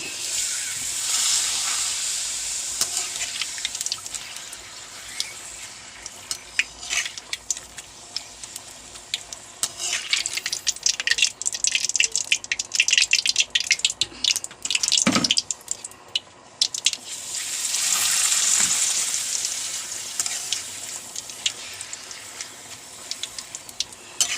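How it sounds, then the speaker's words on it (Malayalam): Papadam frying in hot coconut oil in a pan, giving a steady bright crackling hiss that swells and fades over the whole stretch, with a brief lull in the middle before the frying noise rises again. "പപ്പടം വറുത്ത് കഴിഞ്ഞു"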